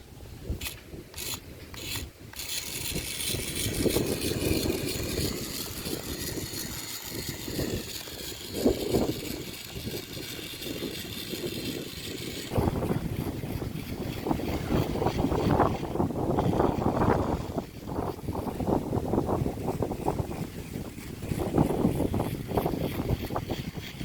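A small motor whines steadily and buzzes for a long stretch, with splashing and rushing water as a homemade remote-controlled toy boat runs on a pond nearby.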